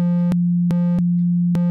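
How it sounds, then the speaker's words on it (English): Synthesizer oscillator playing a triangle wave for an electro brostep patch: a loud, steady mid-low tone held for under two seconds, broken by a few sharp clicks at irregular points. "a triangle wave is what we're looking for"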